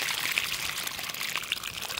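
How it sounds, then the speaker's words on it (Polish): Water poured out of a dug-up metal cauldron, a brief close splashing and trickling pour running steadily with no talk over it. "Wodę wylejemy."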